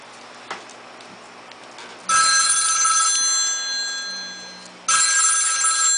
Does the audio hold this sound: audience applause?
no